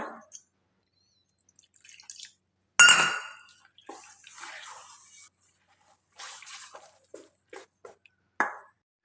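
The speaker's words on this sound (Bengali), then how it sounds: "একটু একটু করে জল দিয়ে ব্যাটারটা তৈরি করে নেব" Water is poured little by little into batter for patishapta, heard as scattered drips, splashes and soft clinks of utensils against a bowl, separated by quiet gaps.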